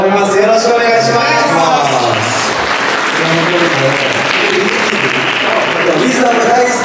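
Audience clapping at a live band performance during a Christmas market event, loud and sustained throughout with cheering under it, while a performer talks over the crowd.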